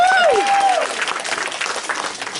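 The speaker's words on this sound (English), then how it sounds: "You can clap, it's okay" An audience at an improv comedy show applauds and cheers, a dense wash of clapping with a whistle or whoop rising at the start, then steady hand claps filling the room.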